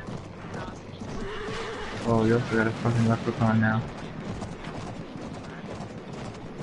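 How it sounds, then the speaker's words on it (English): A horse in the video game Battlefield 1 neighs in a loud, rising whinny over galloping hoof clops and distant battlefield gunfire, while someone talks over the sounds. "I'm on a horse."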